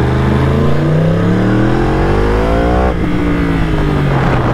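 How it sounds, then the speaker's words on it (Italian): A 200-horsepower Yamaha R1 Crossplane engine is revved hard, right up close and very loud. Its rough, throaty pitch climbs steadily, drops, then builds again. "stiamo parlando della Yamaha R1 Crossplane 4 di Yamaha con 200 cavalli"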